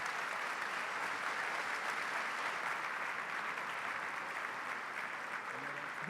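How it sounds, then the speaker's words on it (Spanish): A congress audience at the annual IAEF conference applauds steadily, a dense, even wash of clapping heard from a distance that holds without pause. "Un aplauso."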